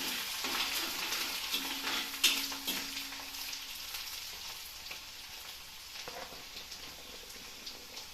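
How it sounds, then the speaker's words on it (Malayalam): Chopped garlic sizzles and fries in a pan for a green grape and date pickle, with a steady crackle and occasional stirring scrapes, moderately loud and close, no voices. "വെളുത്തുള്ളി അരിഞ്ഞത് ഇട്ട് കൊടുക്കാം. ഒന്ന് ഇളക്കി കൊടുക്കാം."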